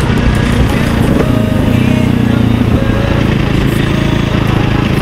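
Engine of a KTM 450 EXC dirt bike running, a loud steady buzzing idle with a slight rise in pitch partway through, close by and continuous.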